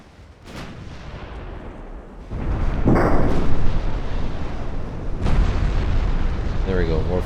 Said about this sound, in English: Set the secondaries to fire out the other one, so we don't obscure the accuracy for the main guns.